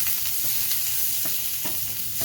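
Sausage chunks fry in a cast iron skillet with a steady, loud sizzle, broken by a few scraping stirs of a utensil against the pan.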